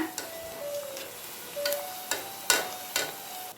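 Onion bonda frying in oil over a medium flame, a soft steady sizzle broken by several sharp crackling pops and spatters, close and fairly quiet.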